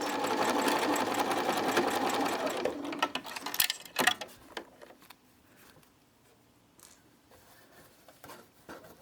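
A sewing machine stitches a partial seam in a rapid continuous whir for about three seconds, then stops, leaving scattered light clicks and handling sounds of fabric and thread.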